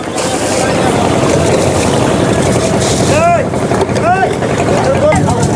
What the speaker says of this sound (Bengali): দেখেন এইখানে কত নৌকা আসছে